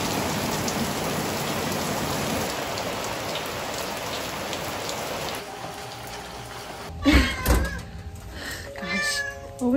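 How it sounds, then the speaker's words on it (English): Steady rain patters on a car after eight dry months, a dense even hiss for several seconds that thins out as a cat meows loudly and repeatedly near the end. "This is our first rain in 8 months."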